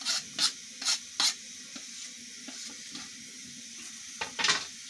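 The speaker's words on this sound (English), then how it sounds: "The garlic and ginger, when you put it into frying onions and oil" Garlic and ginger sizzle quietly in hot oil with onions in a wok under a few sharp scraping stirs of a utensil against metal, close by.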